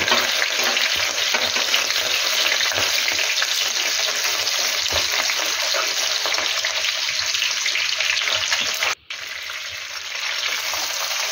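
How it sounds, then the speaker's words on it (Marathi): Garlic and green chillies frying in a hot wok for Hakka noodles, a steady loud sizzle running throughout with occasional stirring scrapes and a brief dropout near the end. "आता इथे आपण लसूण टाकून घेऊया। त्यानंतर हिरव्या मिरच्या"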